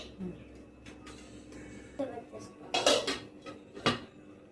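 A spoon scrapes and clanks against a cooking pot while tomato charu is stirred, several sharp metallic knocks landing in quick succession over a low background hum, fairly close.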